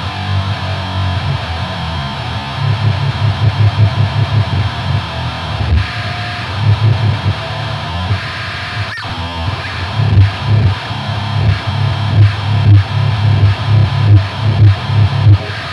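Electric guitar played through a Boss HM2 distortion pedal with every knob maxed, giving a loud, dense, buzzing, noisy wall of distorted chords with rhythmic chugging bursts and constant hiss, with no one speaking.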